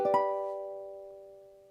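A single ukulele chord strummed once, ringing out clearly and slowly fading over a couple of seconds.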